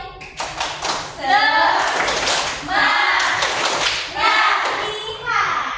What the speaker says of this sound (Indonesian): Supaya lebih semangat, kita tepuk semangat cowboy dulu ya.